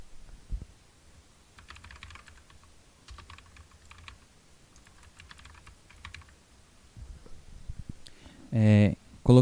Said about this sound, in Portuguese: Eu vou digitar o meu aqui bem rápido.